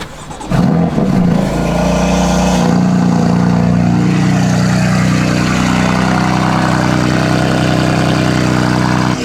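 A BMW M4 engine roars to life, then settles into a loud, deep, steady idle with a rumbling throb close by.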